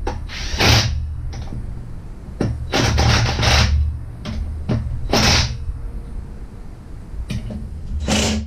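An impact wrench tightens the front upper control arm bolts on a Jeep TJ, firing several short, loud, rattling bursts with quieter mechanical clicks and pauses between them.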